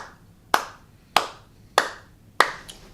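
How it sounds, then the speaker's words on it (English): Four slow, deliberate hand claps spaced about half a second apart, each one sharp and close, with quiet gaps between them. "I applaud that young man."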